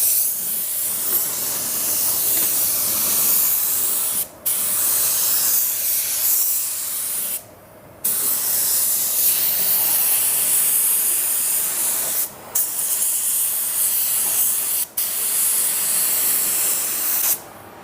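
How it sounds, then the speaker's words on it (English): A budget LVLP automotive paint gun sprays a medium wet coat from a small compressor, a steady close broadband hiss running continuously with several brief pauses where the trigger is released. "So we're spraying about 5 to 6 inches away right now."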